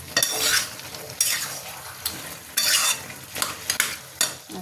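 Green chillies frying in a pan over a high gas flame, with steady sizzling cut by repeated scraping strokes of a spatula against the metal, close and moderately loud, no talking.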